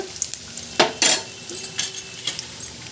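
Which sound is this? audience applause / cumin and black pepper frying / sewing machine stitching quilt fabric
cumin and black pepper frying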